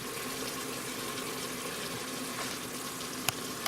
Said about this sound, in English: Now I'm going to fill this can up with water